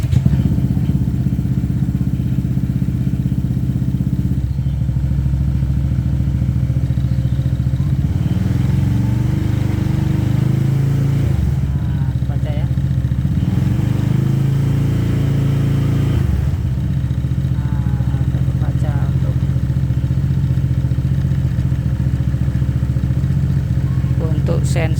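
A custom Honda Vario 160 scooter engine runs close by with a steady, loud drone and occasional clatter, its level shifting slightly throughout.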